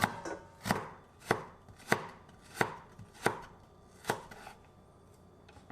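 One small carrot is chopped by hand with a knife on a board, producing about eight crisp, evenly spaced strokes at a steady rhythm, close and clear with no voices.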